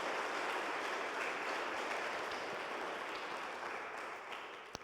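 A church congregation applauding together, a dense, steady wash of clapping that holds evenly and then tapers slightly toward the end.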